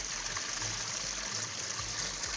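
Snow meltwater falls and rushes steadily down a mountainside on the Churdhar trek, a continuous broad hiss of flowing water heard close and unbroken, with no voices.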